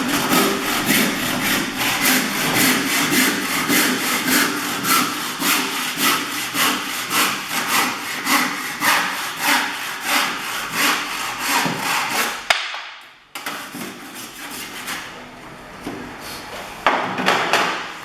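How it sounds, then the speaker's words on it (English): Hand saw cutting a 45-degree mitre through wood held in a simple Studhawk saw guide: steady, rhythmic back-and-forth strokes, close and loud, ending with a brief pause before lighter strokes finish the cut. "Let's try the 45. See what sort of a mitre we can cut."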